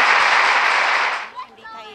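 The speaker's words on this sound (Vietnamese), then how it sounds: "Đề nghị chúng ta nổ một tràng pháo tay để cổ vũ" A burst of audience applause at a village festival cultural evening in Vietnam, loud close clapping for about a second and a quarter before it cuts off, followed by a voice.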